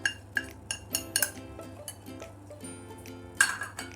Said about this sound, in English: So we mix this nicely together